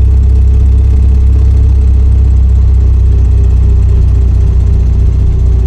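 A car engine running steadily with a loud, low rumble, heard from inside the vehicle without pause.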